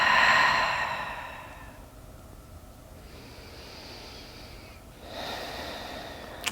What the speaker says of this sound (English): And breathe. Smooth, easy breath.